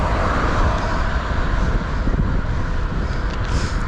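Strong wind roars and buffets the microphone during a bicycle ride, a steady, loud rumble that masks everything else for the whole stretch.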